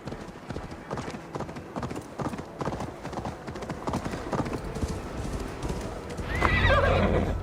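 A horse gallops in Assassin's Creed Valhalla, a quick steady run of hoofbeats under faint background sounds, ending with a loud, close neigh.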